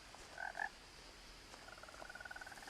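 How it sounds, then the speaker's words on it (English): Frogs in What Remains of Edith Finch croak in the night, a pair of distinct close croaks followed by a faster trilling chorus, quiet and unaccompanied by talk. "I hear frogs again."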